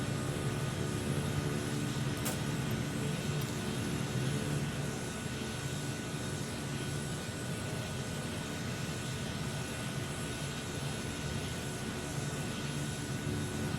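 In a flight simulator on Xbox, the left engine of a Transall C-160 turboprop transport plane starts up with a steady, broad aircraft engine drone and a faint click early on, with no talk.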